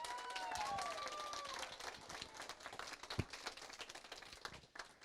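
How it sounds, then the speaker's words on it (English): Wedding guests applaud the staff during toasts, with a sustained round of clapping and some cheering or whistling at the start, fading gradually. "If everybody could give the staff a round of applause."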